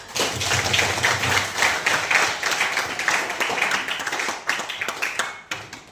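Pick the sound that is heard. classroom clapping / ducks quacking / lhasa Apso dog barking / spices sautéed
classroom clapping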